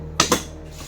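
Two quick metallic clanks close by as a child pulls kitchen pots and vessels out, followed by a fainter knock, in a quiet indoor room.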